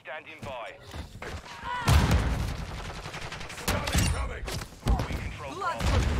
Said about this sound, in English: I'll have to try and defend myself with a pistol, I think.